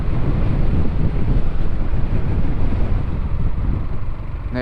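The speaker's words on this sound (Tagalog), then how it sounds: "Ang lakas ng hangin." Strong wind on the Villa Verde Trail road between Pangasinan and Nueva Vizcaya roars steadily across the microphone, a continuous loud low rumble with gusty buffeting and no pauses.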